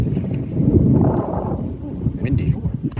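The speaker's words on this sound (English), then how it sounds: "Windy." Wind buffeting a microphone at Summit Point Raceway, heavy low rumbling gusts that rise and fall, with brief faint higher sounds from the track setting.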